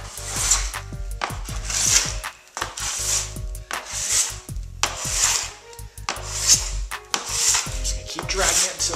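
A plastic scraper dragged in repeated strokes across a waxed snowboard, stripping off the wax, giving rhythmic rasping scrapes about once a second, close and fairly loud, with no voices.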